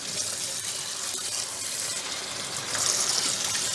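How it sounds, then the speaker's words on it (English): Steady running water from a tap rinsing a freshly processed meat rabbit, a continuous close hiss and splash that swells slightly louder near the end, with no talking. "We're going to rinse them off."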